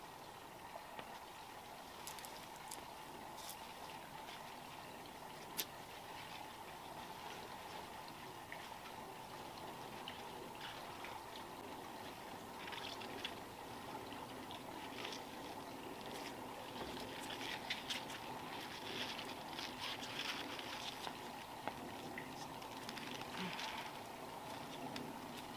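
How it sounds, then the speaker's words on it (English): Water sloshes and trickles steadily as bunches of tulip stems are washed off in water, a quiet, continuous splashing with no talk over it. "I am going to go ahead and wash these off by the bunches."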